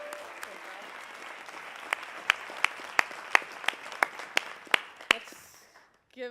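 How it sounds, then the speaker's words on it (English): Audience applause rings out for competing teams at an event, many hands clapping steadily with a few sharp, loud individual claps standing out before the sound dies away near the end. "have another round of applause for all of our amazing teams today?"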